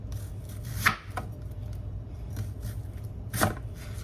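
Onions being chopped on a board in a home kitchen, a steady soft knife rhythm with two sharper, louder chops standing out, close by and with no talking.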